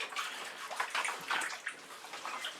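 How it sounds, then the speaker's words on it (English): Running water splashes and gurgles as paint is rinsed off hands under a tap, an uneven fluctuating wash of sound at moderate distance with no talking. "I need to rinse my hands off."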